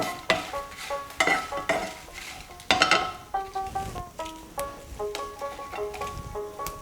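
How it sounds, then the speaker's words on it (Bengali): Six dry red chillies roast in a pan for a spice mix, with sharp scraping stir strokes at first, then quicker, quieter rhythmic stirring over soft sizzling as sustained tones play in the background. "প্রথমে আমি লঙ্কাগুলোকে ভেজে নিচ্ছি"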